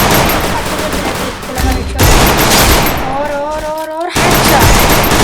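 Dense, continuous gunfire from the Free Fire battle-royale game fills the clip, loud bursts over a busy soundscape with a brief lull and a rising whistle-like effect midway, with someone talking excitedly over the action.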